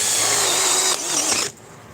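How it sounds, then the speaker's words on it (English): Power drill whirring briefly in short bursts, a high ratcheting mechanical whine that cuts off after about a second and a half, near and fairly quiet, no talking. "This drill is touchy"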